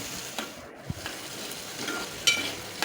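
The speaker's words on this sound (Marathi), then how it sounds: "शिमला मिरची परतून चांगली आपण घेऊया" Capsicum and green chillies sautéing in a pan for a fish curry, a soft continuous sizzle with a few stirring scrapes and taps close by, no talk.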